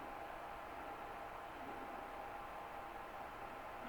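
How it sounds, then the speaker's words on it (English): Steady broadband white-noise static picked up by an RF receiver near a motionless electrical generator, a faint continuous hiss with no variation or voices. "More like white noise."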